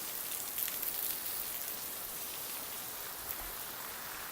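Heavy rain from Tropical Storm Harvey pours steadily at a home northwest of Houston, a dense, even hiss of drops with runoff, close and constant with no voices.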